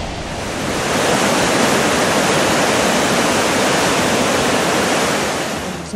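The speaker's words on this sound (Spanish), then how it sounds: "El caudal del río Rímac en el distrito de San Martín de Porres cada vez está en aumento y más fuerte" Rushing water of the swollen Rímac river under the Dueñas bridge in San Martín de Porres, Lima: a loud, continuous broadband roar that fades in and holds steadily, with no voices.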